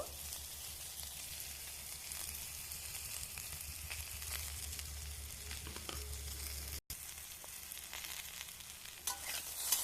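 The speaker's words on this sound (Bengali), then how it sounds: "মশলা আমি সবজির সঙ্গে ভালো করে আমি ভেজে নিচ্ছি।" Vegetables frying with spices in a kadai, a steady close sizzle and crackle of oil with occasional stirring scrapes, continuous apart from one brief dropout.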